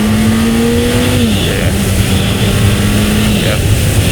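A Suzuki GSX-1300 motorcycle engine revs under throttle, a loud, steady drone that rises briefly and then settles, with heavy wind noise throughout.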